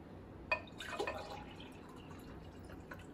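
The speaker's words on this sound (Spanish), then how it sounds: "ahí le va a poner el agua" Water poured from a glass into a dish of rice for oven-baked rice with vegetables, a quiet splash and trickle of liquid with a few drips, faint and close.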